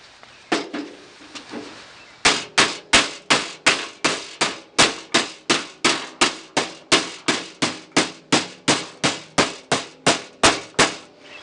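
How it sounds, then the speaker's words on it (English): A heavy hammer strikes a steel door skin on a 1967 Mustang, folding it over a steel dolly, again and again in a fast, steady rhythm, each blow ringing sharply, after a few lighter taps at the start. "This is a much heavier hammer too, so it does a lot better job of folding the skin over"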